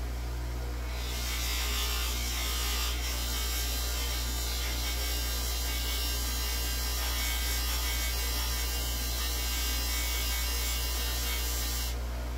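A freshly stained tobacco pipe being polished, with a steady, even motor buzz and hum running continuously at fairly low volume and no talking.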